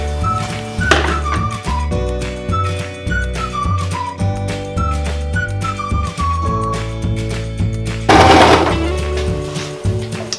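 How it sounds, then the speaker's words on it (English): A sewing machine stitches through denim in rapid, steady mechanical bursts, loud and close, with clattering rhythm and brief changes in speed. "I'm just gonna take my sewing machine and I'm gonna sew it through"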